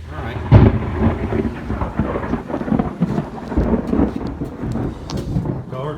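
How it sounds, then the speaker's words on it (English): Rolling thunder from a storm outside a hot garage where a Ryobi 2HP garage door opener is being installed, low rumbles swelling and fading with rain-like hiss, a sharp loud crack near the start. "That's bad. Thunder to follow."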